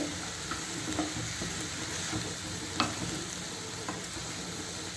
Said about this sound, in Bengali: আর চিনিটা না গলা পর্যন্ত আমায় কিন্তু আস্তে আস্তে ধিমে আঁচে নাড়তে হবে।